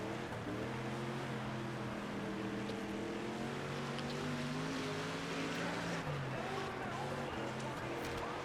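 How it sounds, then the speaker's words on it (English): Sprint car engine in the World of Outlaws racing game, a steady droning tone that sags and bogs down through the corners, rising and falling in pitch, with game commentary or talk over it. "the car gets really bogged down through the corners"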